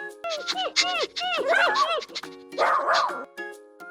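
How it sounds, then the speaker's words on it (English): A cartoon dog gives a quick run of high, squeaky yips and barks in bursts, close and bright, in a children's animated learning show. "Look, it's a dog."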